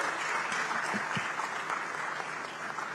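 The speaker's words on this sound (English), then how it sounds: "A round of applause, please." Steady applause from a large audience, a dense wash of clapping that holds at an even level throughout.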